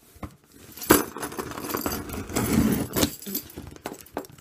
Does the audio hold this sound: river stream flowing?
no